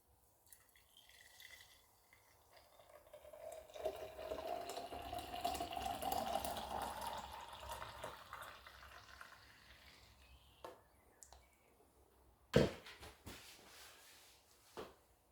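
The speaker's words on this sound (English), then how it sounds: "so now to pour our juice in" Homemade kidney and liver cleansing juice, freshly strained, poured into a container in a quiet room, a steady liquid pour swelling and then easing over several seconds, followed by a brief clatter near the end.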